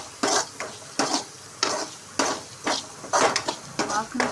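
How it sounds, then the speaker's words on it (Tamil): Cumin powder is sautéed in a pan with a spoon scraping and stirring in about eight regular strokes, each a short bright scrape over a faint background sizzle, close and fairly loud. "சீரக பொடி நல்லா போட்டு வதக்கி விட்டுக்கலாம்"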